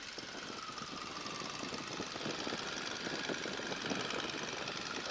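A Stearman N2S-3 biplane's piston engine roars steadily at high power during a run-up, a rough throbbing drone with a knocking rhythm, loud and close throughout.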